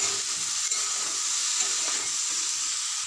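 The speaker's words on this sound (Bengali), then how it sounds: "এবার দিয়ে দেবো ভেজে রাখা কিছু চিংড়ি মাছ, দিয়ে আবারও কষে নেব।" Vegetables and pre-fried prawns are stir-fried in a pan, giving a bright, steady sizzle with soft scraping from stirring, close and continuous for about three seconds with no voices.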